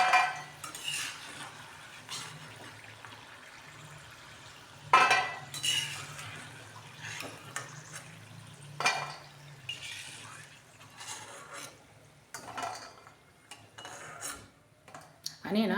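Crispy rings made from rice flour and moong dal are lifted out of hot frying oil onto a plate, with scattered utensil clinks and scrapes over a faint sizzle and no talk.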